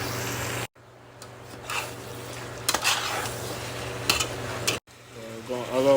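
A ground beef mixture simmers in a pan with a steady sizzle, while a spoon stirs and scrapes against the metal in intermittent clinks; a voice talks briefly near the end.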